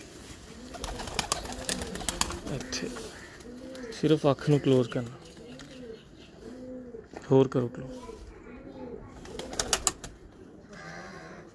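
Pigeons coo repeatedly in soft rounded calls while being held in a hand, close by, with someone talking over and between the calls and louder bursts of rustling.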